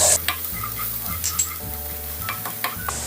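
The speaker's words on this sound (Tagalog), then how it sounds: "Igisa lang natin to." Garlic sautés in a hot pan, crackling and sizzling steadily while a utensil scrapes and stirs it in short, irregular strokes, close and clear with no talking.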